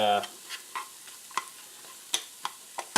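Hamcake batter in a pan gives a soft sizzle, punctuated by several quiet scraping clicks and taps at irregular intervals.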